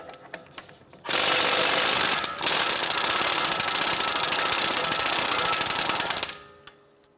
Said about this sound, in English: Using a 35mm socket, we're going to go ahead and remove our axle nut.